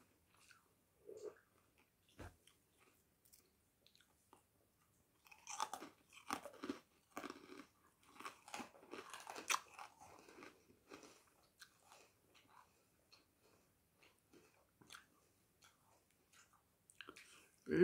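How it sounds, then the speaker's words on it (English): Close, crisp crunching bites and chewing of honeycomb toffee come in irregular bursts, loudest in the middle, with quiet pauses between them. "But this is really, really crunchy shit."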